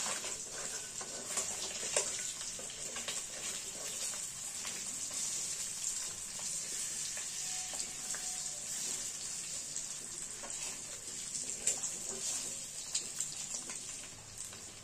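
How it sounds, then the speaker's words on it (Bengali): Salted eggs fry in a pan with a continuous, even sizzle and occasional pops and crackles, steady and fairly quiet throughout with no talking. "ডিমগুলোর মধ্যে একটু সামান্য নুন দিয়ে দেবো। নুন দিয়ে একটু ভেজে নেব।"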